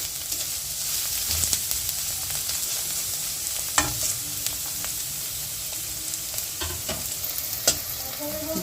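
Capsicum fries in a pan for soyabean momos with a steady crackling sizzle, broken by intermittent scrapes and clicks of stirring, close and unaccompanied by any voice.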